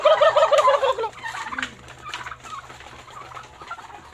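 Turkey gobbling up close, a loud rapid warbling burst at the start followed by quieter, scattered fowl calls fading off.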